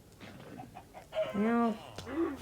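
Minecraft chicken clucking in a video game, a few short harmonic clucks rising to a louder, drawn-out call, then a brief final cluck, alone with no talk.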